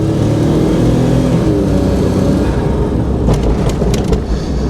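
A kei van's engine is held at full throttle, giving a loud, continuous drone that climbs steadily in pitch as the small van accelerates, heard close and alone without talk.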